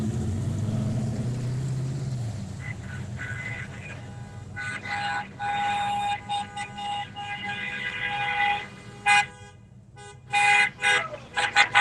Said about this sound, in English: when they're honking their horns, making a lot of noise